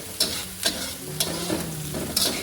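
Genjer fruit stir-fries in a hot pan, a close, continuous sizzle broken by four sharp scraping strokes of a utensil at a loose, uneven rhythm.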